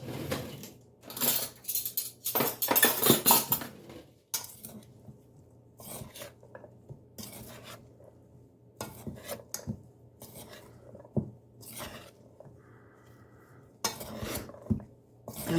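A utensil scraping and stirring black beans and rice dressed with olive oil in a bowl, coming in repeated rasping bursts with pauses between, close and fairly quiet, with no talking.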